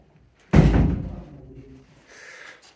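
The main door of an abandoned high school shuts with a single loud, heavy thud close by, its low boom fading slowly into a quiet room.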